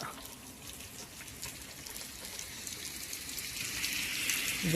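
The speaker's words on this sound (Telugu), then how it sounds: "అది అంత వర్షం పడుతుంది, అసలు ఏం కనిపిస్తలేదు" Heavy rain falls steadily on a road, a faint, continuous wash of hiss and patter with no pauses.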